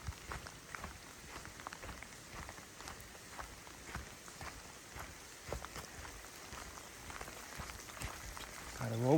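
Hail and rain pour down steadily on a Deschutes River Trail hiking path during a sudden heavy hail storm, a dense patter sprinkled with sharp ice impacts, with a louder burst at the very end.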